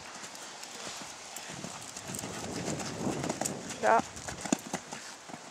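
A ridden horse clip-clops steadily on its hooves at close range, with people talking over the hoofbeats throughout.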